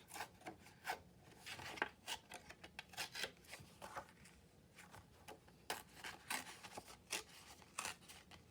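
Paper being torn by hand in a crafting session, a series of short dry ripping and rustling bursts, quiet and close, with no talking.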